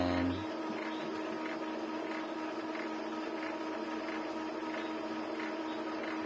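A steady mechanical whirring hum from an Epson L-series inkjet printer running its head-cleaning cycle, with faint rhythmic pulses repeating throughout, close and moderately quiet.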